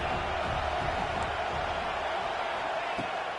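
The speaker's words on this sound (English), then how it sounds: "Third down, red zone play, crowd alive." Football stadium crowd in a video game, steady and loud, a dense continuous roar with no pauses on a third-down red zone play.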